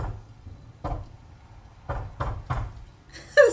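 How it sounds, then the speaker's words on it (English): A rhythmic secret knock raps on a door, two single knocks followed by a quick triple series, dry and close, with a brief voice at the end. "Secret knock."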